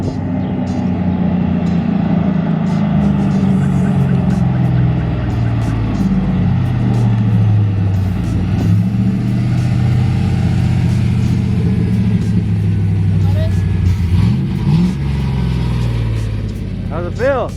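LS-swapped Chevrolet Colorado pickup running on a Holley Terminator X, a steady low engine drone while driving, loud and close throughout, with people talking over it.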